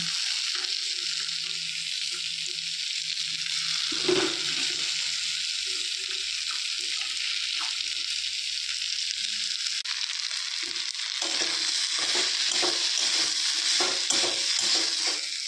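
Vegetarian curry of masoor lentils and banana stem fries in a pan with a steady, close sizzle, while repeated stirring strokes scrape and clatter through the hiss, growing busier toward the end.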